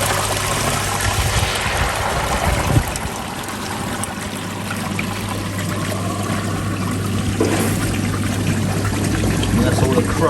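Water gushes steadily from a koi pond bottom drain into a filter chamber, a loud continuous rushing pour with a low pump hum underneath, lasting throughout.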